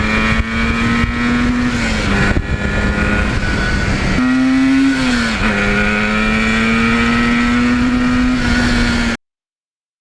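A 1977 Yamaha RD400 two-stroke motorcycle revving hard at wide open throttle, its buzzing engine note climbing and dropping with each gear change, loud and close throughout before cutting off.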